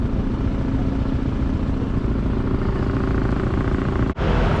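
Steady engine and road rumble from a motorcycle ride through a developed area of the Philippines, continuous and close, with a brief dip near the end and no voices.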